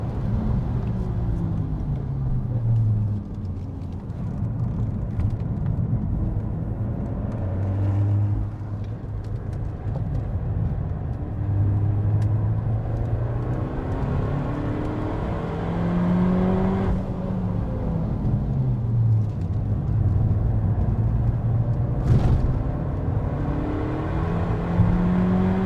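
A Peugeot 308 GTi is driven flat out around Anglesey Circuit, its engine note climbing and dropping repeatedly through gear changes and corners, loud and continuous from inside the car.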